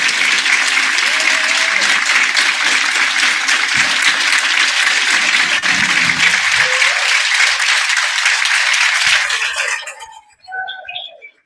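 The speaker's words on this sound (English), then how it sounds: "let's have a great round of applause" Loud, steady applause from a large crowd at an annual general meeting for about nine seconds, then fading out into a few scattered claps.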